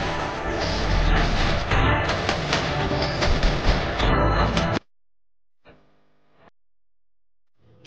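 Train 12961 rumbles along loudly after pulling out, a dense continuous roar of wheels and carriage noise that cuts off abruptly, leaving near silence with a faint brief sound.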